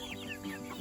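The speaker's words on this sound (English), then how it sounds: "That's a rooster." A Polish rooster gives a short, close clucking call in a farm setting, a single brief burst that stands alone.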